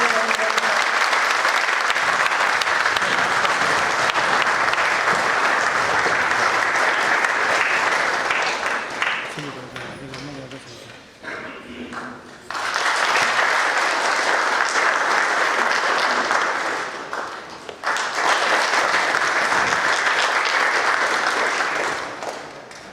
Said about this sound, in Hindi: कृपया सभी लोग जोरदार तालियां बजाएं